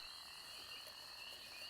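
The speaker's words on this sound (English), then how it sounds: "You got bullfrogs and shit." Swamp ambience from a handmade track, with bullfrogs croaking softly beneath a constant high buzzing drone of insects, low in level and without any voices.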